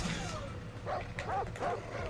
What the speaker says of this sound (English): Oh, there's two dogs there as well.